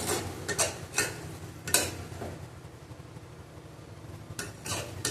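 A spoon scraping and clanking against a pan while okra, potato and shrimp are stir-fried over a low flame, irregular close metallic knocks and scrapes over a faint sizzle, with no talking.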